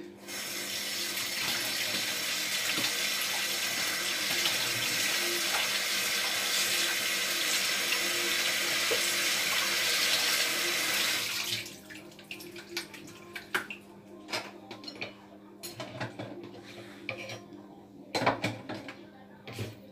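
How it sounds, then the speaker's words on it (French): Tap water runs in a steady loud stream for about eleven seconds as a cleaned crab is rinsed, then cuts off, followed by drips, splashes and handling noises. "Une fois que nous avons enlevé le déchet, nous allons rincer notre crabe."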